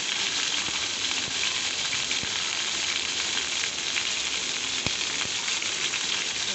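Cut brinjal pieces fry in a pan for brinjal cabbage pachadi, giving a steady, close, dense sizzle with a constant hiss and small crackles throughout, and no voices.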